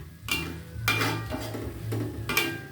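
A spatula scrapes and stirs a turmeric and ginger spice paste as it sautés in a metal pan for papaya leaf curry, with four distinct scraping strokes close by over a low background hum and no talking.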